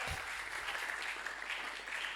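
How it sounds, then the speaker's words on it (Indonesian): Steady applause from a church congregation at a retreat worship service, dense and continuous clapping filling the whole moment at moderate distance, no voices over it. "Tepuk tangan Bapak Ibu Saudara."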